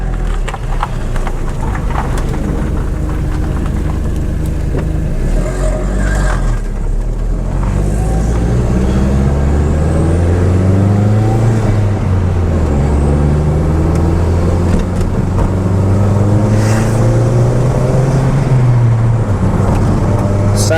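A turbocharged Audi TT MK1 engine pulls hard under boost on the road, its note rising and falling through the gears, loud and continuous with road and wind noise around it.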